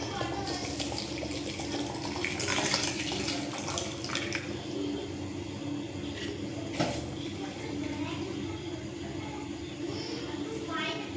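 Water pours and splashes steadily while someone talks over it, preparing a homemade hair remedy meant for a spray bottle; the liquid noise stays fairly even and close throughout.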